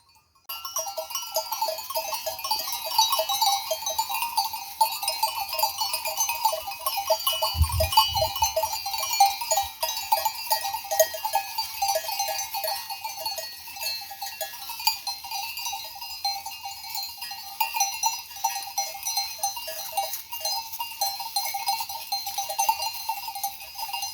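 A flock of sheep on a farm bleats over a steady jingle of bells, the animal calls scattered and fairly distant under continuous ringing for over twenty seconds, with a brief low thump near the middle.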